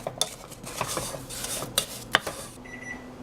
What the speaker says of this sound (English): And then give it a good stir.